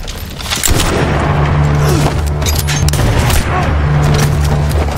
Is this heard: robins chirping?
no